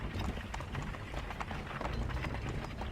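Horse hooves clip-clopping at a steady run in the video game Assassin's Creed III, a dense continuous patter of hoofbeats against busy in-game ambience, with no clear talk.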